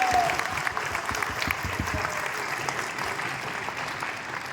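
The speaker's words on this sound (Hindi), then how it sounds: "जबरदस्त ताली दीजिए इसके लिए।" An audience claps for a newly added team building fund at a company business meeting, a dense steady round of applause that stays even and gradually eases off over several seconds.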